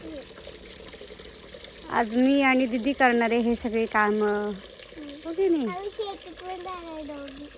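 Water trickles and pours in the background as it is drawn for cattle on a farm, while a child and another person talk over it.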